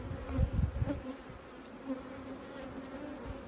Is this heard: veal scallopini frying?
no